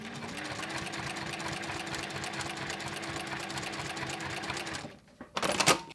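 A Juki TL2200QVP sewing machine with a walking foot runs steadily for about five seconds, a fast even mechanical whir and needle clatter close up, then stops, followed by a short burst of handling noise.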